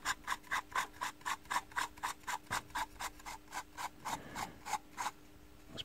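The chuck of a Drill Doctor X750 drill bit sharpener is twisted loose, giving a close, fast, regular run of ratcheting clicks, about three or four per second, with no talk.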